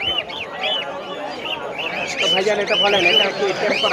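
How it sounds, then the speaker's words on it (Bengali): Grey cockatiels and lovebirds at the Mirpur 1 bird market in Dhaka chirp and whistle in busy, overlapping bursts, with people talking nearby throughout. "এটা টেম করা কথা বলতে পারে গ্রে কোকাটেল"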